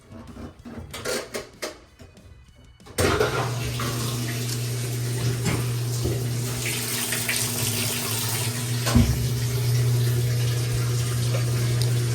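Water turned back on and rushing through newly installed washing machine hoses, a sudden onset after a few seconds of quiet clicks and handling, then a steady loud hiss and hum of flow continuing to the end.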